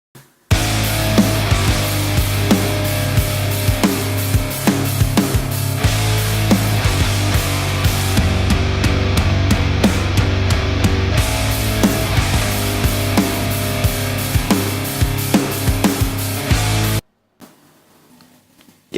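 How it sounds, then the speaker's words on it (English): Programmed drum track from the GGD Modern and Massive sample library, dense, loud heavy kit with punchy kicks, snares and cymbals driving a full band mix for about seventeen seconds, then stopping abruptly. "All the drums were programmed using the Modern and Massive sample library from GGD."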